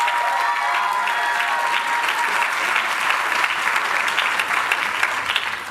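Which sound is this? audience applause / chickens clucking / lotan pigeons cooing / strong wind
audience applause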